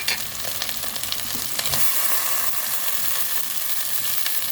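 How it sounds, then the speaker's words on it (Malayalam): Chopped green chillies and ivy gourd sizzle steadily in a hot frying pan of oil, a continuous crackling hiss with occasional louder spits, close and fairly loud, with no one talking. "കട്ട് ചെയ്ത് വെച്ചിരിക്കുന്ന പച്ചമുളകും അതിൻ്റെ കൂടെ തന്നെ നമ്മൾ കട്ട് ചെയ്ത് വെച്ചിരിക്കുന്ന കോവയ്ക്കയും കൂടെ ഒന്ന് ഇട്ട് കൊടുക്കാം"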